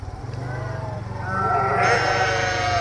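Sheep and goats bleat by a roadside at the entrance to the Harsil valley, a dense overlapping chorus of many animals that swells louder partway through, over a steady low rumble.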